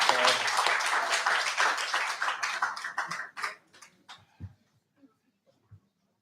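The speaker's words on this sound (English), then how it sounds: "let's give them a big round of applause" An audience at a live event applauds, with dense clapping that thins out into a few scattered final claps and then fades to near silence.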